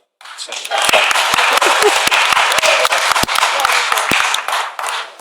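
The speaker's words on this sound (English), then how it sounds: "You're supposed to clap there." Wedding guests clap during a speech, starting abruptly and building into loud, close applause with distinct sharp individual claps standing out, then tapering off after about five seconds amid some voices.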